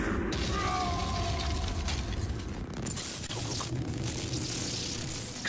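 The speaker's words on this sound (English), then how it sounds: "Explosion confirmed at the Mishima dojo." Explosion at the Mishima dojo in Tekken 7, a dense roaring blast with shattering debris that fills the whole stretch loudly and continuously, with game music and effects layered in.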